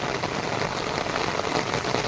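Pouring rain drenches a rural pasture and its trees, where goats are sheltering, as a thick, even wash of drops, steady and fairly loud, with no one speaking.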